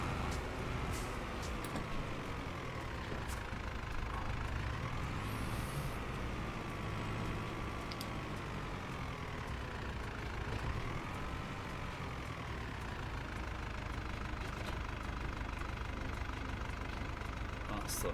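A vehicle engine runs in a video game, a steady low rumble with slow rising and falling revs that swell and sag over several seconds, continuous throughout with some background talk mixed in.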